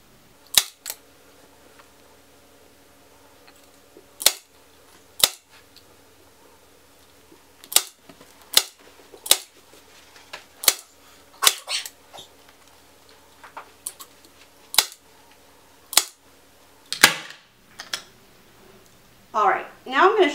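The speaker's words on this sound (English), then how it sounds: "Keep stapling so it's nice and taut." A staple gun drives staples through fabric stretched over a chair seat during reupholstering: a dozen or so sharp, close snaps at irregular intervals over a quiet room, with a brief faint voice near the end.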